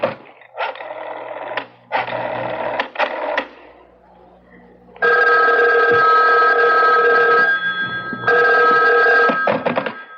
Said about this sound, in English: I made a grab for the phone.